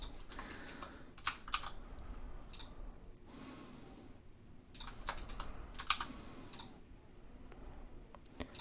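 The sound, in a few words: typing keyboard shortcuts on a computer keyboard in Blender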